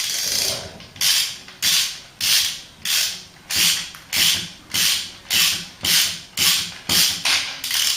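A ratchet tightens bolts on a Ford Cortina during restoration, with about eleven steady, close rasping strokes, each a quick burst of clicking pawl teeth followed by a brief pause.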